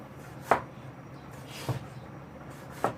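Knife chopping raw chicken breast on a cutting board, three separate sharp thuds spaced about a second apart, close and clear with no talk.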